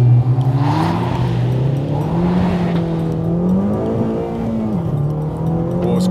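Honda Civic Type R accelerating on a race track, a strong steady engine note climbing in pitch through the gears, loud and close throughout with brief shifts and no talk.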